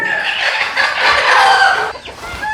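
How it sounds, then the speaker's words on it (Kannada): Native country chickens of mixed ages on a farm cluck and squawk loudly and close by, a dense overlapping chorus of hens over about two and a half seconds. "ಎರಡು ತಿಂಗಳದು ಮೂರು ತಿಂಗಳದು ನಾಲ್ಕು ತಿಂಗಳದು ಎಲ್ಲ ಮಿಕ್ಸ್ ಇದೆ ಕೋಳಿ"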